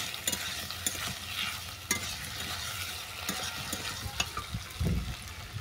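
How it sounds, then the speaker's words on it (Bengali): Mixed vegetables with ginger and sugar fry in a pan and are stirred, with sharp scraping and clattering strokes over a continuous soft sizzle; no one speaks. "চিনিটাকে ভালো করে মিশিয়ে নিলাম।"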